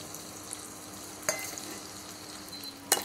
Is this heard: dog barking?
no